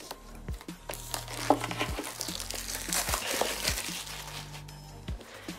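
Plastic packaging crinkles and crunches as a HomePod Mini box is opened, close and continuous with sharp clicks and taps mixed in, no talking.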